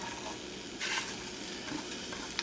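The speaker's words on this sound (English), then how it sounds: "things are heating up here in the pan, so we're going to go in with the peppers and the sausages" Peppers and sausages sizzling in a hot pan, a steady soft frying hiss with a brief louder burst of spatter and a small clink near the end.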